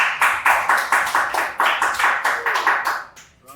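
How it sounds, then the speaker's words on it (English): At an esports grand-finals tournament, an audience claps in a loud rhythmic cheer for the team JUMPSCARE, with about a dozen strong pulses of massed clapping that thin out near the end. A commentator's voice runs faintly underneath. "Round of applause for JUMPSCARE here from the audience."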